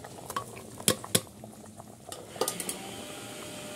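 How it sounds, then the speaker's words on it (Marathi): A spoon stirs a mango raita mixture with jaggery and coconut as it cooks in a pan: a soft simmering bubble with a few sharp clinks and scrapes against the metal, faint and close. "आणि परत हे असं चांगलं असं ढवळून घेऊया."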